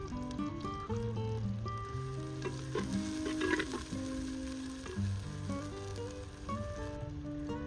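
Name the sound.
onion frying in mustard oil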